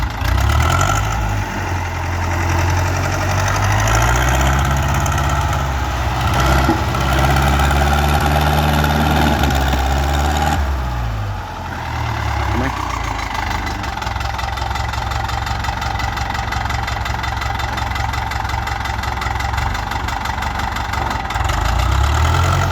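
A Champion MX5900 farm tractor idles in neutral, its engine a loud, steady low-frequency chug with a slight knocking rhythm, the pitch dipping and recovering briefly around the middle before settling again.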